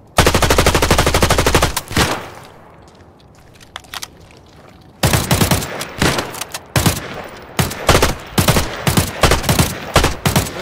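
Gunfire in the video game Arena Breakout: Infinite: loud, close bursts of rapid automatic fire, then a quieter lull with a few isolated shots, before heavy sustained volleys resume in quick bursts.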